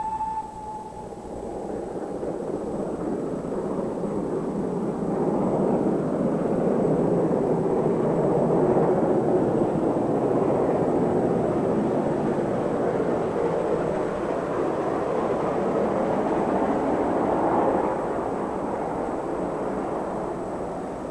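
The Great Western Railway Manor class steam locomotive Hinton Manor runs past as a broad, steady rumbling roar that builds and holds for about twenty seconds, with no speech.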